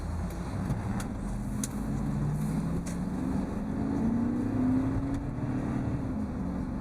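2002 GMC Yukon Denali under hard acceleration on the road, a steady engine drone rising slowly in pitch over several seconds beneath constant road and cabin noise.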